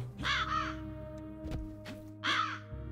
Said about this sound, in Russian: Просто так слышу ворона